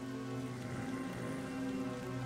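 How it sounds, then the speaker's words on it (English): Steady rain pours down in an animated TV episode, a continuous even hiss of falling drops on rock and ground with no talk over it. "No point in going on until the rain lets up."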